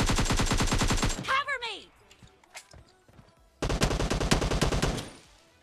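An M249-style machine gun fires in PUBG Mobile, two long loud bursts of rapid shots separated by a quiet gap where someone talks briefly.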